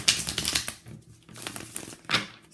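Oracle cards being shuffled by hand in a reading setup, giving papery riffling and crinkly rustles in bursts that pause near the middle, close and moderately loud, with no one talking.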